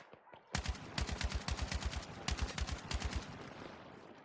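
Automatic weapon fire in the shooter Battlefield 6, several rapid bursts of close, loud shots in quick rhythmic strings with brief pauses between them.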